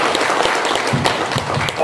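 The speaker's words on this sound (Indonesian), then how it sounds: "tepuk tangan Bung Rido" An audience at a Democratic Party regional congress in Lampung applauds a candidate, with brisk, close clapping that carries on evenly with a few voices mixed in.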